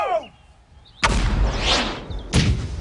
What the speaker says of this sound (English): With these very cannons, Rory, Wendell was sent homewards to think again.